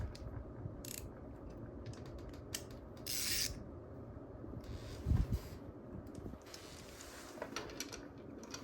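A ratchet wrench clicks in short bursts as a bolt is tightened on a Kawasaki KE175 motorcycle, close but quiet, with brief metallic rasps and a faint thump among the ratcheting.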